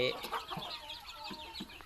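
Chickens of a Burmese line cluck inside a rustic poultry shed, several close birds making short, uneven calls over steady background noise, with no talking.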